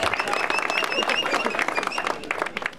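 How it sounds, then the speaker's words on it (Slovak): Applause from an audience at a 2025 OHL SB awards evening, dense steady clapping that gradually thins and fades toward the end. "Potlesk, veru tak."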